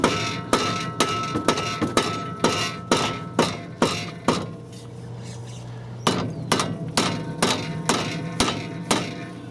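Sharp metallic hammer blows strike a 2009 Toyota Yaris brake rotor in a steady series of about twenty close, loud impacts, each ringing briefly, with a short pause midway before the pounding resumes.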